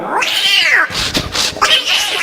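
A human voice imitates fighting cats, letting out loud, close, wavering yowls and caterwauls in a couple of sweeping cries separated by a brief rough hissing break.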